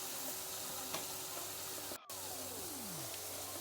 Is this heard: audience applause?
no